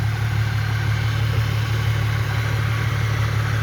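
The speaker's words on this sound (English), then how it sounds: "Motor looks pretty good, sounds pretty decent." A 1997 Ford Mustang engine idles steadily with the hood open, a loud, even low rumble holding constant throughout with no revving.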